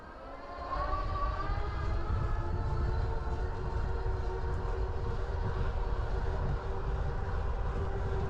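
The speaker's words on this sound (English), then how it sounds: "And I'll throttle to start, and I'll pedal." Lectric XP 3.0 e-bike motor on throttle in class 3 mode, a steady electric whine that rises in pitch as the bike accelerates, over a continuous low rumble of rolling wind noise.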